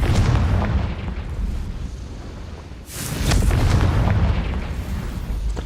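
In a Harry Potter video game, the Confringo blasting spell goes off as loud, rumbling explosions, a heavy booming roar that briefly dips and then swells again with a fresh sharp burst.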